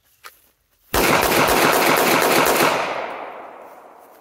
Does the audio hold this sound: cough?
no